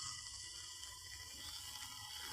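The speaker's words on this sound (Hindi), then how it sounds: "इधर कितना पानी जा रहा है" Floodwater pouring through submerged rice paddy fields in an Odisha village, heard as a faint, steady trickling flow with soft splashing and no voices.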